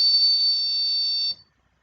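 A steady 900 Hz electronic tone from an Arduino board driven by the tone() function, a single loud, pure beep held for over a second before cutting off abruptly into silence.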